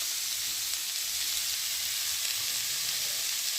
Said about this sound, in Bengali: একে একে কপি সয়াবিনগুলোকে ভেজে নেব